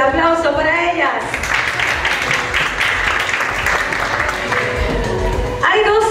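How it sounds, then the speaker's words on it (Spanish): Applause from the audience at a quinceañera swells for several seconds into a dense, loud wash of clapping, with an announcer speaking before and after it. "Fuerte el aplauso para ellas."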